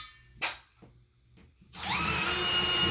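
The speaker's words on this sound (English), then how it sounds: "if you're going to do an anchor in the wall, they want you to drill a 3/8" A power drill bores a 3/8 hole into a wall for an anchor during TV wall mount installation; after a couple of short clicks and a brief whir, the motor spins up into a loud, steady drilling whine close by.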